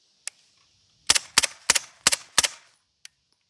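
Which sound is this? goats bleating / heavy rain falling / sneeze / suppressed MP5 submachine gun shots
suppressed MP5 submachine gun shots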